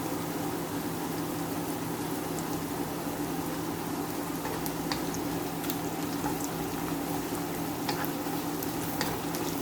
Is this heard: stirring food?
yes